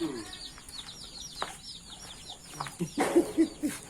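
Chickens cluck in short bursts nearby, with a few sharper calls toward the end over a quiet outdoor background.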